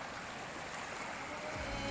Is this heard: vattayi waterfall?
yes